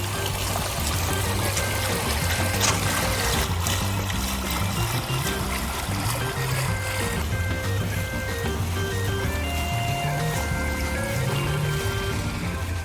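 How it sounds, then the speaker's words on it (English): Water in a backyard water feature flows and splashes continuously, a dense, steady rushing close by that fills the whole stretch, with faint tonal sounds in the background. "So do you like your water feature?"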